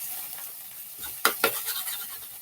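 Onions sautéing in a pan, a soft constant sizzle broken by two sharp utensil scrapes against the pan near the middle, followed by lighter stirring taps, close by.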